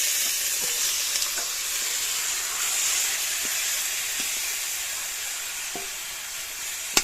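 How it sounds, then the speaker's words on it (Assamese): Pork sizzles loudly in a wok over a wood fire, a dense steady frying hiss with occasional crackles and light stirring clinks, and no talking. "এতিয়া ঢালিব মাংসখিনি সেয়াত কেৰাহীটোত"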